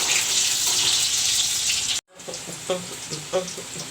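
Green chili and onion fry in a pan, a dense steady hiss that cuts out abruptly, then resumes more softly with scattered clinks and scraping under faint background talk.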